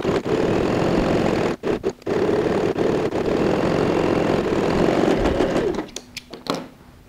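A sewing machine stitches the flap of a pleated lined handbag, running in a steady loud close drone with brief pauses, then slowing and stopping near the end.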